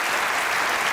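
Studio audience at a Hindi comedy talk show breaks into dense, steady applause, loud and close, holding evenly for the full second with no voices.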